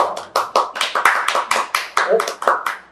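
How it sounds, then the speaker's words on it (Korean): Rhythmic hand clapping from outside the room during an indoor gathering, about a dozen sharp claps at a steady, quick pace, with voices talking alongside. "이상한 데서 외부에서 박수 소리가 나는데"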